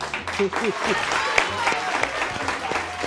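Studio audience applause on a Spanish TV talk show, a steady wash of clapping heard under someone speaking over it.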